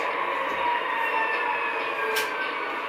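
A model railroad train pulls past a track switch, giving a steady close electric hum and whine throughout with a brief hissy burst near the end; no voices.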